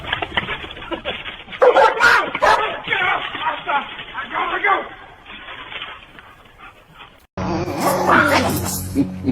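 A dog barks in a series of sharp yaps and bow-wows close by, mixed in with loud, agitated human voices talking and shouting over it.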